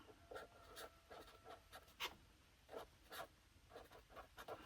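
Pen strokes scratch across paper in short bursts, close and fairly quiet, writing out a budget entry with brief pauses between strokes; no voices.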